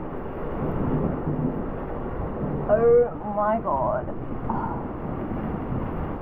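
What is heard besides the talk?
strong storm winds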